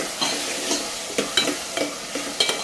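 Chopped tomatoes and onions fry in a pan for an okra tamarind stew, a close continuous sizzle broken by a few sharp scraping stirs of a spoon, with no voices.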